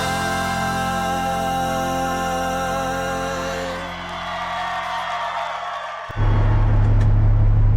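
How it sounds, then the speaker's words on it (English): A truck engine idles with a steady low rumble, then at the end a louder, deeper engine drone suddenly takes over, close and continuous. "I can sit here with the truck running, you hear me."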